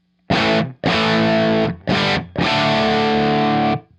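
Electric guitar through an Echoplex preamp with the mix turned up, four loud distorted chords or phrases in a row, each cut off by short silences; close and alone.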